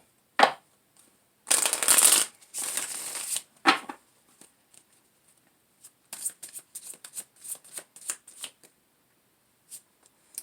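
Tarot cards are shuffled by hand in a quiet room. A couple of longer riffling bursts come first, then a run of short, crisp flicks and taps as the cards are handled and laid down.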